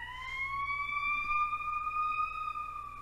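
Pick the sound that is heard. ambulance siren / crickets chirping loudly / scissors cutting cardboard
ambulance siren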